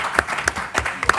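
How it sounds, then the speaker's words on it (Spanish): Audience applause at a conference on sustainable cross-border cities and circular economy, with close, distinct claps at an uneven rhythm, fairly loud and without talk. "Parece que vamos a aplaudir muchas veces aquí"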